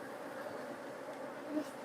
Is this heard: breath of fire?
no